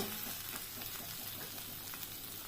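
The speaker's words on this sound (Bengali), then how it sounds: "ওই যে মৌরি, পোস্ত, তিল সব মশলাটা দিলাম" Fennel seeds, poppy seeds and sesame sizzle in hot oil that has already been used to fry fish for doi katla, a steady close crackling hiss with no talk.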